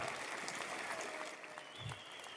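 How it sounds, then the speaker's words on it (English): Faint, distant applause from a conference audience welcoming Roland Frasier to the stage, a soft even patter of clapping that eases slightly toward the end. "Let's give him a big round of applause."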